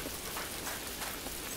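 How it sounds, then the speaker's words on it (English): In-game rain from Fable 2 falls as a dense, steady hiss of drops spattering on surfaces, continuous and fairly close with no talk over it. "Nice weather to be evil, isn't it? Raining."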